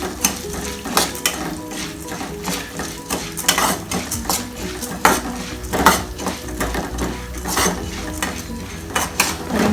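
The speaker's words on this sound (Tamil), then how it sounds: "கருகாமல் நல்ல கோல்டன் கலர் வர வரைக்கும் நம்ம வந்து வறுத்துக்கலாம்." Chana dal roasting in a metal pan, stirred steadily with a spatula, giving a continuous dry scraping and rattling with frequent clinks against the pan, close and fairly loud, no voices.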